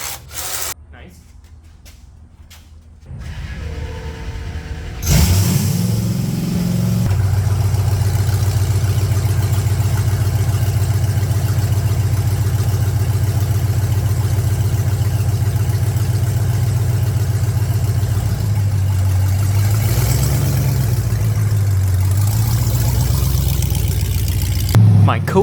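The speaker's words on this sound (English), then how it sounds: "Test drive time." A 1995 Jeep Wrangler built to 800 hp starts and runs on a first test drive, its engine holding a loud, close, deep steady drone with a brief rev swell partway through, after a quiet opening.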